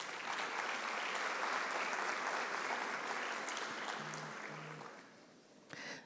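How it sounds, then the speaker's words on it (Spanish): A conference audience applauds steadily to welcome a panelist at a governance congress panel: dense, even clapping that holds for several seconds, then fades and tapers off near the end. "Lo recibimos a él con un fuerte aplauso."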